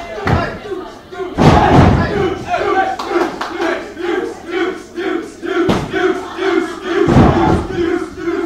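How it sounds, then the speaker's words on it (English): A loud, roaring crowd at an indoor wrestling Iron Man match, swelling and chanting with heavy slams and thuds from the ring breaking through, and voices throughout. "Crowd getting loud again here."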